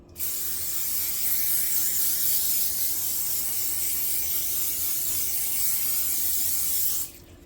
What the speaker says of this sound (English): then I'm going to spray my pan